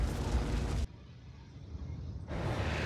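A building fire in SimCity goes up with a loud, dense roaring burst, drops to a low crackling rumble for about a second and a half, then swells back to a full roar.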